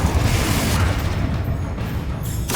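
A Confringo spell blast in the Hogwarts Legacy video game, a loud, dense booming burst of explosive noise that fills the moment and fades away near the end.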